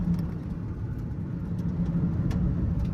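An SC-01 electric lightweight sports car accelerates with a steady low whirring hum and road rumble from inside the cabin, continuous and fairly loud without voices.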